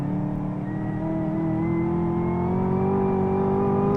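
Chevy Camaro engine pulling hard as it accelerates out of a drift, a steady low, throaty drone with rising harmonics, loud and close, continuous throughout with no talking.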